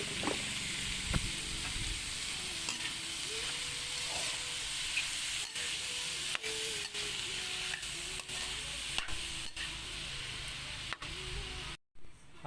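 Chopped papaitan innards sauté in a hot pan, giving a continuous moderate sizzle and hiss with occasional scraping and clicking from stirring.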